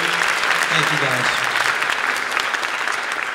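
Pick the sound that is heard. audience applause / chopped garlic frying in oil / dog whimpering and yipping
audience applause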